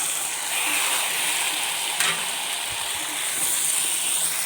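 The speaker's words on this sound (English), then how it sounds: "Now in this fried onion, I am going to add the eggplant." Eggplant sizzles and fries in a pan of fried onion, a continuous loud hiss with a faint clatter midway, no voices.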